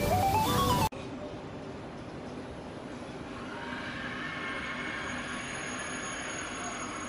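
Train sounds at Gare de Lyon, a Paris railway terminus: a loud burst at the start, then a steady rumbling hum with faint high squeal tones, moderately near.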